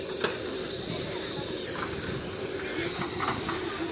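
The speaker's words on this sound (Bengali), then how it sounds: "আর ওইদিকে টয় ট্রেন আছে, এটা কয়লা ইঞ্জিনের" A coal-fired steam toy train in Darjeeling gives off a steady rumbling hiss with occasional clanks and knocks, while voices murmur in the background.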